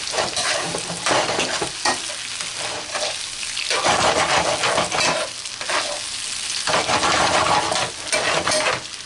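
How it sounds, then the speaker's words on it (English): Garlic shrimp for camarones al ajillo sizzling loudly in a pan while being stirred, with continuous frying crackle and scraping strokes of a utensil across the metal, close and with no talk. "We're going to give it a stir."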